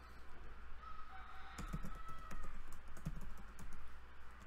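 Code being typed on a computer keyboard during a Unity game-programming session, a steady run of quick, close key clicks with no talk over it.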